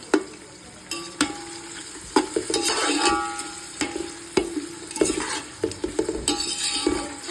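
Onions and green chillies frying in a pan while being stirred for biryani, with a steady sizzle and repeated scraping and clinking of a spoon against the metal, close and fairly loud.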